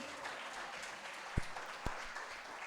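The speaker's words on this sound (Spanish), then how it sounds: "Le damos un aplauso fuerte al Señor." Congregation applauding in a Spanish-language church service, a steady wash of many hands clapping with two low thumps partway through.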